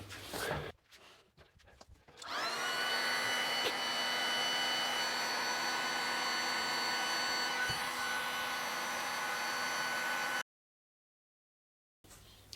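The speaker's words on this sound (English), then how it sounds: "I'm going to keep the hot air gun going" A hot air gun runs continuously with a steady, loud whirring roar while a paint scraper works along a kitchen bench edge strip, preceded by brief scraping and handling noises, then cuts off abruptly.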